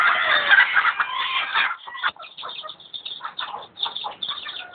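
Chickens kept at home cluck and call close by, a dense burst of overlapping fowl voices at first, then scattered shorter clucks and chirps continuing through the rest.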